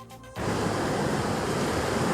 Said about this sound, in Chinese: 海浪一波波打上岸，